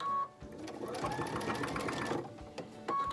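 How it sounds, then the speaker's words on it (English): Sewing machine stitching a quilt block seam, a rapid close mechanical whirr that runs for a couple of seconds, with brief stops and restarts at either end. "Just make sure that seam stays down when you sew over it"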